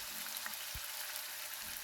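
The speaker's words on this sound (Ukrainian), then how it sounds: "Обсмажую на пательні буквально до золотистої гарної скоринки." Meat sizzles and crackles steadily in a hot pan, a dense hiss with an occasional soft knock, close and continuous.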